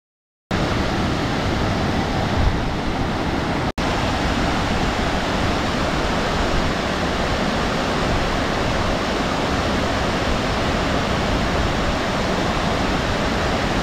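Falls Creek flows through the forest beside a short hiking trail as a constant, full rushing wash of water that stays steady and close throughout, with only a tiny break early on.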